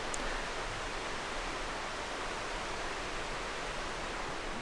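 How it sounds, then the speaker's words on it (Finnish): The Savinajoki river flows into Savilampi lake on the Karhunkierros trail in June, a steady, even rush of moving water with no pauses. "Toi joki, mitä me seurattiin tuossa eilinen päivä, niin se oli Savinajoki ja se laskee tosiaan sitten tähän Savilampeen."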